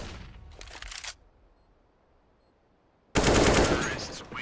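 AK rifle fire in Counter-Strike on the Train map, two loud, close automatic bursts, one about a second long and a second longer burst after a pause of near silence.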